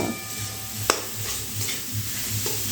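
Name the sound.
grated cauliflower cooking in a pan on a gas flame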